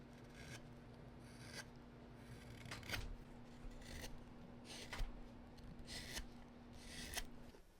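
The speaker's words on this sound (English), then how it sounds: "I brought the Bulldog outside to try out my new finger sander." A finger sander works over a carved wooden bulldog outdoors, giving scratchy rasping strokes in irregular bursts over a faint steady motor hum.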